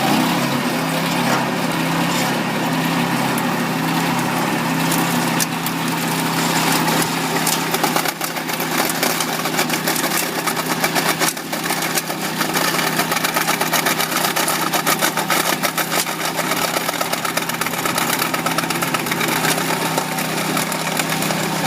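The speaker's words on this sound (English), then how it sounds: "Now we're going to install the Siltshield first by digging a 6-inch trench with the wheel trencher." A wheel trencher engine drones steadily while digging a 6-inch trench for a sediment filter fence, a continuous buzzy small-engine hum with grinding texture throughout and no talking.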